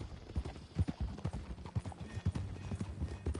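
Horse hooves clip-clop at a steady walking rhythm in Red Dead Redemption 2 on PS5, close and fairly loud, with no voices over them.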